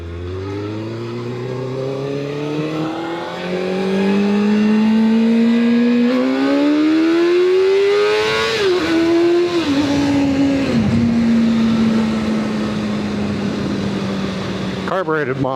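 A carbureted 1999 SRAD 600 sport bike with red velocity stacks from a 1998 model is ridden and revved up through the gears. The close, loud engine note climbs in pitch, dips at each shift and then holds a steady drone.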